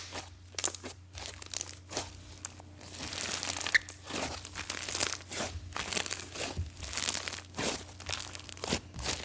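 DIY clay momo slime squished and inflated, giving a steady run of close, soft crinkling and crunchy little crispy pops with no voices.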